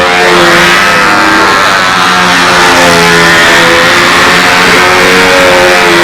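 Loud, close engine of a model airplane at a contest, a steady high-pitched running drone with clear harmonic whine that holds at near-constant throttle throughout.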